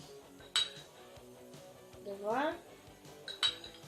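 A tablespoon clinks twice against a dish, a few seconds apart, while milk is measured into a microwave mug-cake batter; a woman counts aloud between the two sharp, close taps.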